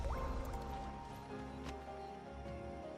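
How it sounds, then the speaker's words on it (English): Drip-like watery plinks from aquamarine mineral in Final Fantasy XVI, soft ringing droplet tones over a steady game ambience, fairly faint and without speech. "I like the water droplet sound it makes."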